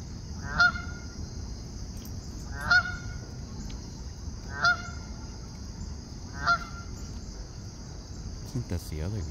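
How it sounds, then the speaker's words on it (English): A goose honks from a pond, four single calls spaced evenly about two seconds apart, over a constant high insect drone and low outdoor background noise. "I think that's the other goose over there."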